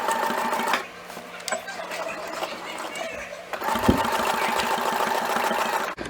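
Sewing machine stitching down quilt binding, a close whirring mechanical hum in two runs separated by a brief pause, with faint speech in the background.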